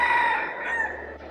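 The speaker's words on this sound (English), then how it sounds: "I think that cockerel's followed me all the way from Bali." A rooster crows once at Batu Caves, Malaysia, loud and close, its drawn-out call wavering before trailing off.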